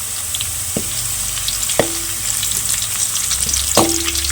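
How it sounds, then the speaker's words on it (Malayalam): Cashew nuts and raisins fry in a pan with a loud, steady crackling sizzle, while three sharp metallic taps of a spoon on the pan ring out. There is no talking. "അണ്ടിപ്പരിപ്പും മുന്തിരി എല്ലാം കൂടി ഇട്ട് വെക്കണം"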